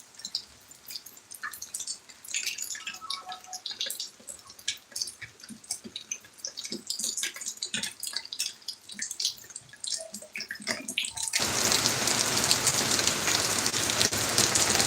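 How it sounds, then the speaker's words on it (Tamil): Heavy monsoon downpour in the Tamil month of Aippasi patters densely on surfaces with scattered close drips, then swells into a loud, continuous roar of falling rain for the last few seconds. "காலையிலலாம் இல்லை மழை இப்போ தான் இருக்குது"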